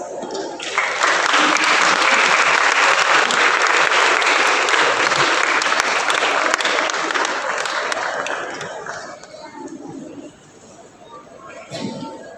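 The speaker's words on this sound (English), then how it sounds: "Let's all welcome our chief guest and other dignitaries with a loud round of applause" A school annual day audience gives a loud round of applause welcoming the chief guest and dignitaries, thick sustained clapping for about nine seconds that then thins out and fades.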